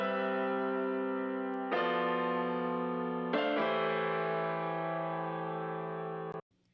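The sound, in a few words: electric piano layer panned left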